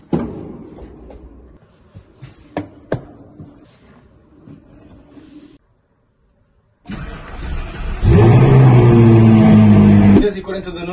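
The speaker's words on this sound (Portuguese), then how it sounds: "o carro mesmo assim ainda pegou, como vocês viram" A Ferrari with a freshly charged battery cranks and fires up, its engine catching with a loud roar and holding a steady rev before dropping back, after quieter handling noises and a brief silence, with voices talking earlier.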